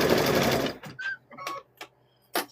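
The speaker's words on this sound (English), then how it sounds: "Do not sew your finger, Carrie." A sewing machine stitching fabric-wrapped rope into a bowl, a fast loud close mechanical whir that stops, followed by a few sparse clicks and taps of handling.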